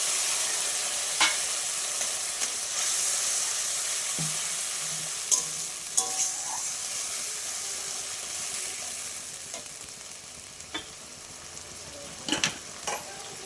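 A paste of mustard, poppy seed, green chilli and tomato hisses and sizzles in a pan with a steady, fairly soft steaming wash, a few scattered clicks and scrapes, and no voices.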